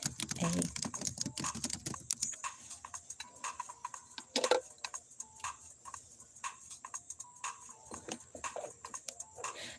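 Quiet keystrokes on a computer keyboard, a dense burst at first, then sparser scattered taps with pauses, close by over a faint steady hum.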